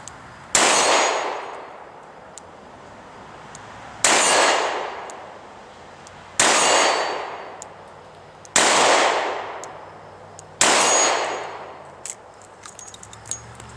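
Five loud gunshots from a Ruger LCR snub nose revolver fired outdoors, each a sharp crack with a ringing decay, spaced about two seconds apart, with no talking.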